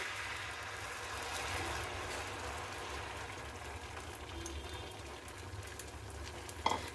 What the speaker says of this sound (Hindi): तेल गर्म हो चुकी है। अब हम इसमें ऑमलेट बना लेते हैं।